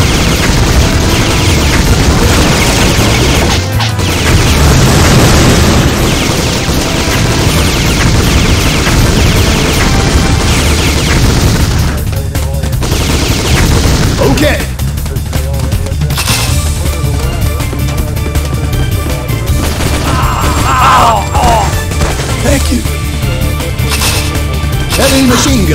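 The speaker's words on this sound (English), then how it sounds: "Heavy machine gun." A heavy machine gun fires in the arcade run-and-gun game Metal Slug 2006, playing as Marco. Dense, loud, continuous automatic bursts mix with booming explosions and frantic game effects for the whole stretch.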